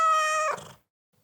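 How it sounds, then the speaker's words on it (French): A single cat meow, a clear harmonic cry that holds steady for about half a second and then falls away. It is close, fairly loud and heard alone with no talking. "Mais le voilà le miaou de l'épisode."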